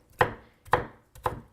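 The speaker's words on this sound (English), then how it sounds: "It's nice to chop it up fine," Knife chopping an ingredient finely on a cutting board while prepping a meal, with three distinct, evenly spaced thuds that each die away quickly. They sound fairly close, with no voices.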